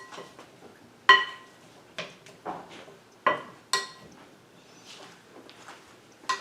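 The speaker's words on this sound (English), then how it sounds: "Now I'm going to stir up the fruits." A spoon clinks and scrapes against a bowl while fruit is stirred. Several distinct knocks come at irregular intervals between quieter rustling, close and moderately loud, with no talking.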